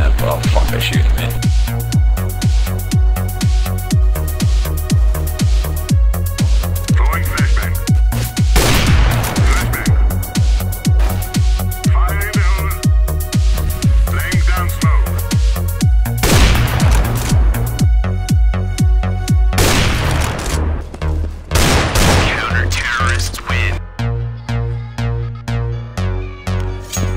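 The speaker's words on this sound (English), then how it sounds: "Oh fuck, they're shooting me." Rapid bursts of gunfire from Counter-Strike: Global Offensive ring out loud and dense through nearly the whole stretch, with explosive booms mixed in and a player talking over the shooting.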